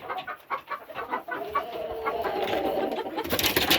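A Polish rooster clucks in a quick, irregular series of close, raspy calls that grow busier toward the end, kept on a small off-grid farm.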